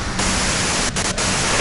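Steady broadband radio static hiss in the Disco Elysium video game, loud and continuous for the whole stretch with two brief dips where the noise thins out.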